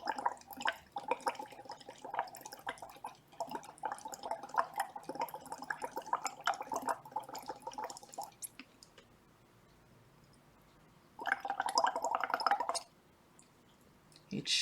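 Carbon dioxide is blown through a straw into limewater, giving soft bubbling and gurgling in bursts, a long run of bubbles, a pause, then another short burst, close and quiet.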